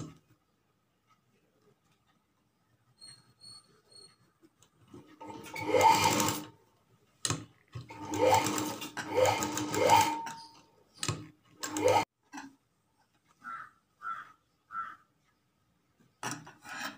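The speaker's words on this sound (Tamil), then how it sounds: "இதில் தையல் போட்டுட்டேன்." Bursts of a sewing machine stitching a blouse alteration, several short runs of rapid mechanical whirring separated by pauses, close and fairly loud, with no talk.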